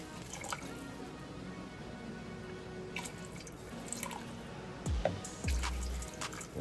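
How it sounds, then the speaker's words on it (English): Five cups of water go into a hot pot to deglaze it while cooking curried lentils with cabbage and chicken, a soft, steady pouring and dripping sound, fairly faint and close. "when you put that water in, what we call deglaze"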